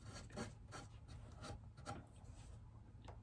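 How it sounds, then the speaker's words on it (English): A wax-based touch-up stick scrapes over a small hole in a wooden surface, giving close, quiet scratchy rubbing strokes in an uneven rhythm of short passes. "And then I just kind of scrape it over the top,"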